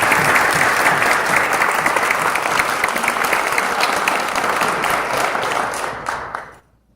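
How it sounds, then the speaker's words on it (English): A banquet audience at a high school boys basketball end-of-year banquet gives players and coaches a full, sustained round of applause, dense and even at first, then thinning and fading out at the end. "please, a round of applause for my players and my coaches"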